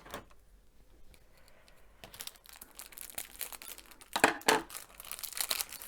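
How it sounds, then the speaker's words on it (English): Close crinkling and snipping as scissors cut open the plastic packaging of washi tape rolls, with a few sharper cuts and rustles building toward the end. "I'm going to just get in with my scissors"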